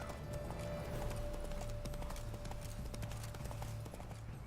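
Steady clip-clop of horse hooves galloping continuously over a constant background hum, with no voices, in the video game The Witcher 3.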